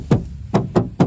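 Four sharp knocks on the metal body panel of a 2013 Toyota Avanza G, one then a quick run of three, hollow and close.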